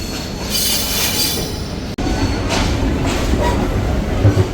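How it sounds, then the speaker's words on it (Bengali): A Banalata Express passenger train at Dhaka Airport railway station rumbles loudly and steadily, with wheel clatter and metallic squeal running through the whole stretch apart from a momentary dropout. "এরপরে ট্রেনটির আর কোনো যাত্রাবিরতি নেই, একেবারে সরাসরি ট্রেনটি রাজশাহীতে প্রবেশ করবে এবং পরবর্তীতে চাঁপাইনবাবগঞ্জের উদ্দেশ্যে ছেড়ে যাবে।"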